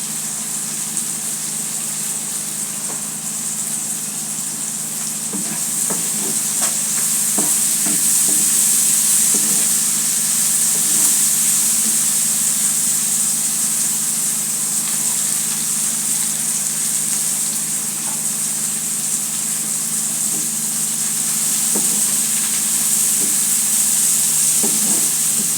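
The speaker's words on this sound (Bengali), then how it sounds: "শুটকিগুলো ভালো করে নেড়ে ছেড়ে একদম ভালো করে ভেজে নিতে হবে।" Dried shrimp (icha shutki) fries in a pan with a constant bright sizzle and occasional soft stirring clicks, close and steady for the whole stretch.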